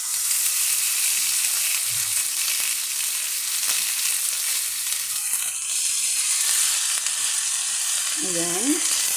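Pork belly fries in a pan with garlic, giving a constant broad sizzle and crackle, close and steady throughout, with a couple of faint low knocks.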